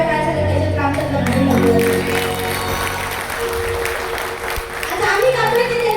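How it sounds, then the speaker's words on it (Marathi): Audience applause at a Marathi shahiri folk performance, a loud continuous wash of crowd clapping with music tones and voices mixed in underneath. "एकदा जोरदार टाळ्या झाल्या पाहिजे"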